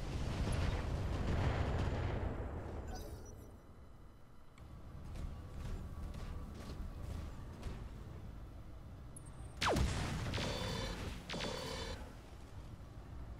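Weapons fire and explosions in the BattleTech mod Roguetech, a heavy rumbling blast fading out, then a series of sharp mechanical shots and a sudden loud impact with crackling debris, distant-sounding and fairly quiet overall.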